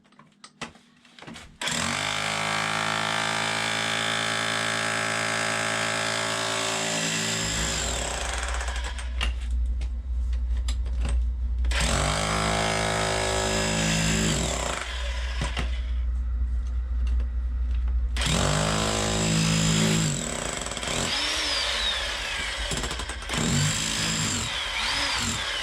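A Bauer SDS MAX rotary hammer breaks up a two-layer concrete basement floor, pounding loudly and continuously at close range with a heavy low rumble and short pauses between bursts.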